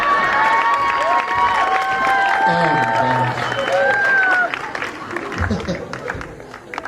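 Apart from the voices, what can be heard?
audience applause and cheering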